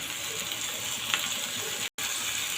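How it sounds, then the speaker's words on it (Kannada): Water poured into a pan of liver curry, a steady broadband gush of liquid with a brief cutout near the end. "ಒಂದು ಸ್ವಲ್ಪ ನೀರು ಹಾಕೋತಾ ಇದ್ದೀನಿ,"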